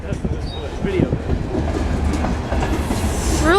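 A Norfolk Southern freight train rolls past close by, loud rumbling with clickety-clack wheel rhythm and a brief wheel squeal near the end, with people talking over it.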